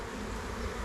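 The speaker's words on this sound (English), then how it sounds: "This frame seems to be completely full of bees for 1 week in." Honey bees buzzing on a hive frame a week after a package install, a dense continuous hum from many bees, close and steady, lasting under a second.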